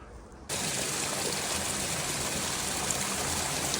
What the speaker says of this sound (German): Jetzt sind wir da beim Bach oben.